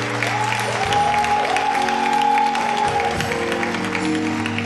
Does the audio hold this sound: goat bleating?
no